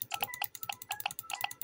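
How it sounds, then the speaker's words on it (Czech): Rapid, sharp clicks in quick irregular bursts, like a computer mouse being clicked repeatedly up close. "Sorry za ten zvuk tý myši, ale hej, nemám tichou myš."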